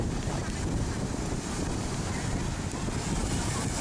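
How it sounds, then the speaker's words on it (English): Strong wind and rough ocean surf at a beach, a loud, steady broadband roar with wind buffeting the microphone throughout and no talk. "it's very windy and the waves are starting to get a little rough"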